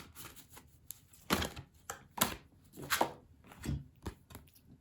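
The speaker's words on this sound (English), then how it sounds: "Now, we're going to shuffle." Tarot cards are shuffled by hand in several quick, close riffling bursts separated by short pauses, with no talk.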